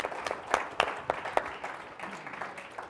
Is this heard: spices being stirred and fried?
no